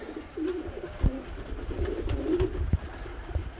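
Pigeons coo softly inside a sport pigeon loft with young birds and nesting pairs, low repeated throaty calls rolling on under a steady murmur of the flock, with a couple of faint knocks and flutters.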